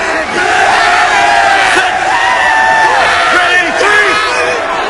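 A New York football crowd at an XFL game cheers and roars in a loud, sustained wall of voices with rising whoops, filling the whole stretch.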